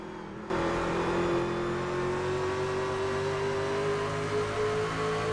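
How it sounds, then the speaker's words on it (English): Race trucks at the Mile accelerate out of corners with careful throttle, giving a sustained, steadily rising engine drone heard from a distance, loud and continuous after a brief quiet start. "You can hear how careful they're having to be on the throttle to exit these corners."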